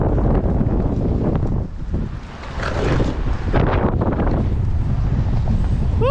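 Strong wind over fishing grounds buffets the microphone with loud, rough rumbling, dipping briefly midway before surging again, with faint whistling tones.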